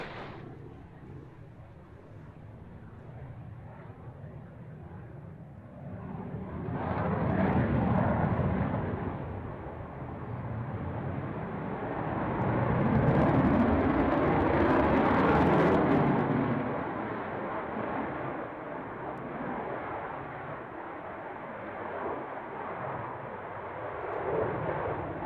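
An F-16 jet from the Solo Turk display team roars steadily, swelling louder twice as it passes and then easing back to a sustained rumble, with no talk over it.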